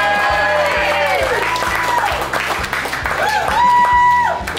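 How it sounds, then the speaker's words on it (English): Crowd cheering and clapping at a monster 15-patty cheeseburger eating challenge in a restaurant, a steady dense wash of applause running throughout, with a rhythmic low beat and music tones underneath. "Everybody, let's cheer on David."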